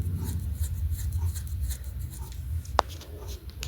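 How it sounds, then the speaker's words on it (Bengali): Tomato paste stirred into sautéed spices in a pan over low flame, soft scraping and rubbing of a spoon with one sharp tap against the pan, close and fairly quiet; no talking. "এবার আমি এর মধ্যে দিয়ে দিচ্ছি একটা বড় সাইজের টমেটো বাটা, মিশিয়ে দিচ্ছি।"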